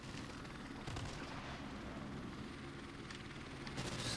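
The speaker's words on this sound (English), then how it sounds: "Someone needs to shoot this helicopter down." Helicopter rotor in a video game, a steady dense whir holding level throughout, mixed with scattered gunfire and explosion-like thuds in a busy battle soundscape.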